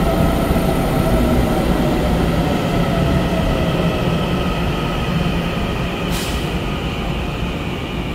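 A ten-car silver-green EMU900 electric multiple unit passes a station in Taiwan, giving a loud, steady rumble and rolling roar that holds for the whole stretch, with one brief higher hiss near the end.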